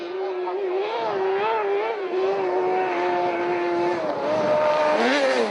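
Sprint car engine at an autocross event, a loud, continuous high-pitched engine whine with wavering pitch as it revs, a voice talking over it.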